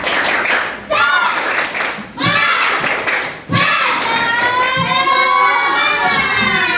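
Schoolchildren in a classroom perform a rhythmic spirit clapping cheer, bursts of patterned claps with shouted chanting voices, loud and close, in several short sections.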